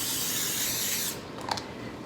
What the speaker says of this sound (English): I'm gonna wanna grab some cooking spray